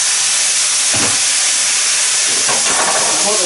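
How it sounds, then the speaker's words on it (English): Water hits a hot pan of mushrooms and bursts into loud, close, continuous steam hissing and sizzling, with a couple of brief surges. "I'm just going to put a little bit of water in just to make some steam."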